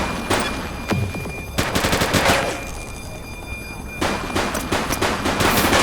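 Gunfire in the police video game The Precinct: loud bursts of rapid shots in several clusters with a brief lull between them, and a faint siren tone running underneath.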